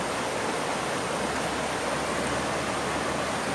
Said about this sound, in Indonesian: Pukulan air itu ke batu sehingga menimbulkan suara gemuruh.